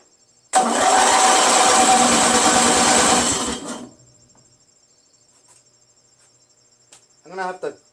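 A Briggs & Stratton 16HP opposed twin engine cranks over in one loud, steady churning burst of about three seconds that then cuts off, followed by near silence and a short spoken phrase at the end.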